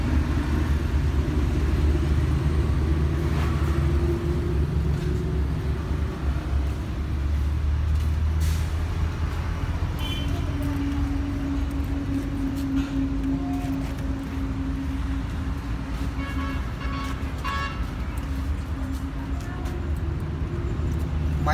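A 2011 Chevrolet Cruze with a 1.6 engine and manual gearbox idles with the engine bay open, a steady low rumble and hum with faint clicks and ambient noise over it.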